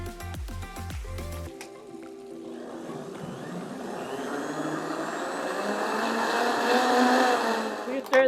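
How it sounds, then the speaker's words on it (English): A kitchen blender purees squid ink sauce, starting after a few clunks and knocks and then running as a continuous whirring roar that builds in loudness over several seconds. "I'm going to blend my sauce"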